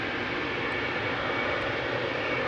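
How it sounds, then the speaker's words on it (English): A KLM Boeing 777-300ER takes off, a steady, loud, broadband jet roar that holds without change throughout the short moment, with no talking. "777-300 taking off right in front of us"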